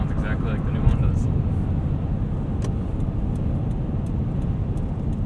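A 2015 supercharged Toyota Tundra TRD Pro pickup drives along, a steady low engine and road rumble from inside the cab, with faint voices in the background.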